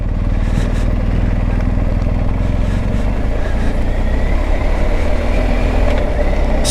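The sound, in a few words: BMW R1250 GS motorcycle engine on a steep mountain pass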